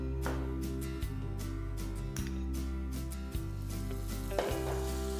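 Butter sizzles in a hot pan with a steady crackling hiss, while a low repeating hum and occasional light clinks of cookware sound underneath.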